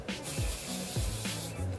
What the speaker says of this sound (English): I just like to spray this on my hair